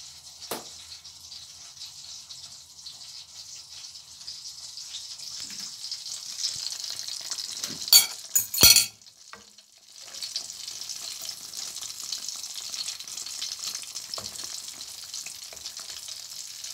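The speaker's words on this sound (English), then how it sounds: "And now we're going to fry" Squash or pumpkin, coated in flour, fries in a pan for shrimp with kalabasa, giving a steady close sizzle with a brief louder crackling burst partway through, alone with no voices.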